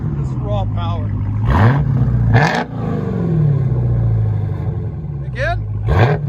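A 2021 Dodge Charger SRT Hellcat with Dynomax Race Bullets dual exhaust revs in three sharp, loud bursts over a deep, steady idle rumble close by, with voices around it.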